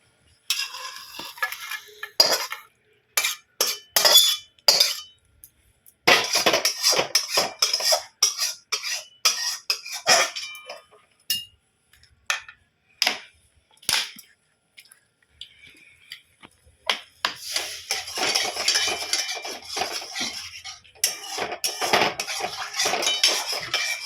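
A spoon scrapes and clinks around a pan of panch phoron and bay leaves frying in oil, bursts of stirring separated by pauses, with soft sizzling building loudly near the end.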